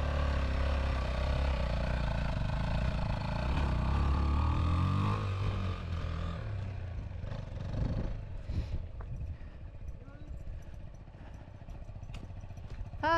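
A motorcycle engine labours over slippery, muddy ground, its low roar steady at first, then breaking into uneven bursts and clattering revs as the rider struggles for grip, fairly close.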